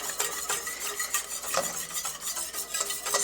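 A spoon scrapes and stirs a thickening roux in a pot on its way to a dark roux for gumbo, with repeated close scraping strokes over a steady low sizzle.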